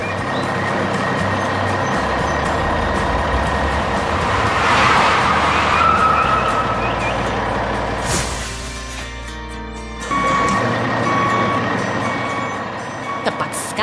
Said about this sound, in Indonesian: Lihat, truk derek merah besar itu tiba.